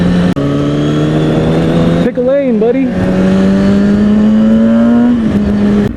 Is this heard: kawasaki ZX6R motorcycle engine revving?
yes